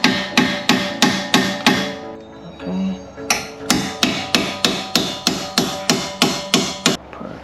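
Hammer blows on the suspension of a Ford Mustang Mach 1 while Steeda lowering springs are fitted, a steady run of loud metallic strikes with a short pause, then more evenly spaced hits.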